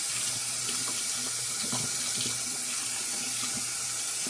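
Running tap water splashes steadily while soap is rinsed off a handmade soap bar under a faucet, a continuous near hiss with small shifting splatters and no talking.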